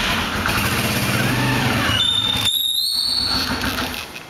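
A motorcycle engine runs steadily with a low rumble and rising mechanical whine, loud and close, fading slightly at the end.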